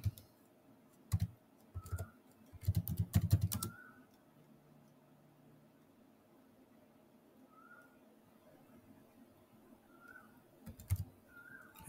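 Computer keyboard typing while a web layout is designed in Adobe Photoshop, with quick bursts of close, light key clicks near the start and a few more keystrokes toward the end, set against quiet room tone and faint chirps.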